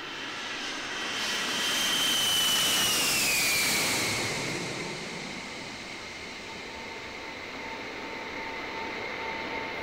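A Boeing 707 jet airliner passes overhead, its engine roar swelling to a peak with a falling whine, then easing into a steady distant rumble.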